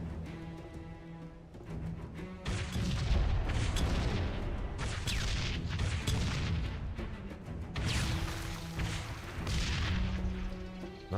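Grenade launcher fire in a modded Halo 3, a string of heavy thumping blasts and explosions layered over a steady background of game music.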